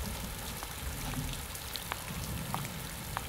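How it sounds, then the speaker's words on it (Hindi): Steady rain falls with a soft continuous hiss and occasional sharper drops pattering on a surface, quiet and even throughout. "बारिश कम हो जाए फिर चली जाना"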